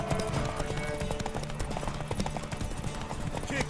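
Galloping horse hooves in The Witcher 3 beat in a fast, steady patter through a race, mixed with game music and people calling out.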